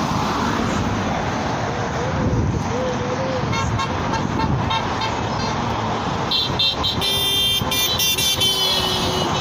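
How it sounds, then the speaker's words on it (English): Steady roadway traffic rolls across the Lake Street bridge in St. Catharines during a carbon tax protest, with car horns tooting in short bursts over the continuous rumble and voices talking nearby. "as you can hear, lots of people driving along the bridge here"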